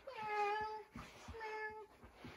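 A voice imitates a cat, giving a string of drawn-out, tonal meows, about four distinct calls spaced across the moment, fairly close and clear against a quiet room.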